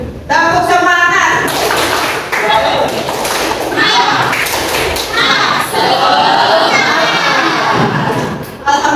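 Children clap and chant the tepuk semangat clapping routine in an Indonesian classroom, loud and close, their rhythmic claps and voices mixed with a teacher speaking.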